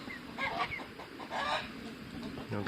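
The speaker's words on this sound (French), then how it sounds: "Une poule gournée, le coq faverolles et les 3 poules faverolles" Faverolles hens and a Faverolles rooster cluck softly in a garden, a few quiet, scattered calls at a moderate distance.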